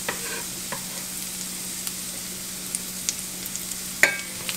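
Onions and garlic sautéing gently in a pan, a faint, steady sizzle with a few small clicks and one sharper utensil tap near the end, no voices.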